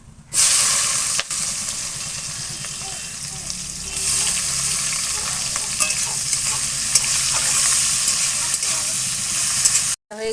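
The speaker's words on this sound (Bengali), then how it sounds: "পেঁয়াজ দিয়ে দিচ্ছি" Onions drop into hot oil in a pan and burst into a loud, sustained sizzle and hiss that stays strong for about ten seconds, with stirring scrapes throughout before stopping abruptly.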